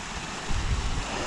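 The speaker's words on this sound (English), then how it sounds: "Again, another little falls and plunge pool." A small waterfall on Blackden Brook pours into a plunge pool on open moorland, giving a continuous broadband rushing roar that is close and steady throughout the brief moment.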